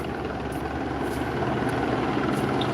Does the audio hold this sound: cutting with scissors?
no